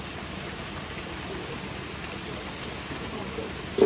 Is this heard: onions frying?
no